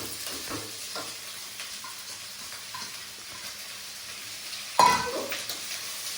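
Green beans are frying in a pan, giving a soft, steady sizzle with light stirring and one louder scrape or clatter near the end.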